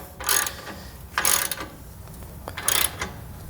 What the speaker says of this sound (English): grab yourself a 15/16 socket, or you can use a 24 millimeter. And we're going to tighten these up,